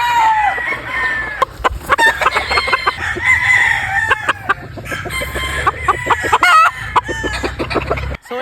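An SBR rooster with a pea comb on a farm crows loudly and close by in two long drawn-out calls, with scattered clucks and farmyard chatter between them.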